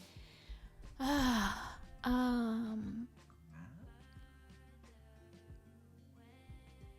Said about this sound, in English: That was a very deep-toned yawn.